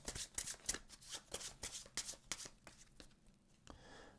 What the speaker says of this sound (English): The remainder of them, we're going to go ahead and shuffle.